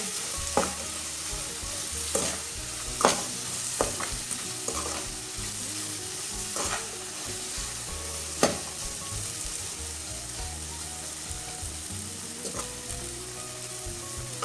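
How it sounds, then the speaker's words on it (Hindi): Red chili, turmeric and black pepper roasting in a pan, a continuous hiss of frying with intermittent scraping stirs and occasional sharp spoon knocks, close and fairly even throughout. "सब मसालों को डाल के 1 मिनट तक भून लेंगे"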